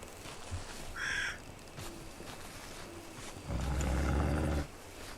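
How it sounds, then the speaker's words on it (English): An unseen creature in a Bigfoot-hunting video game lets out a low, rumbling growl and a brief higher cry. A louder, heavier roar swells near the end, with little else around it. "I don't know what that is, but something's growling at me."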